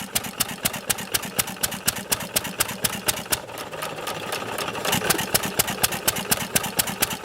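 A 1920s Novo 3 hp Model S upright hit-and-miss engine runs at around 350 RPM, producing a steady, rhythmic chuff of sharp regular beats close to the microphone over a low mechanical clatter.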